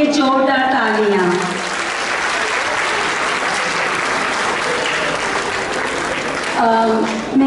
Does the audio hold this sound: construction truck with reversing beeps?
no